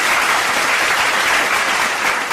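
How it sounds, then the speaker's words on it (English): Steady, dense applause from an audience fills the whole stretch at an even, loud level, with no voices breaking through. "A round of applause for that."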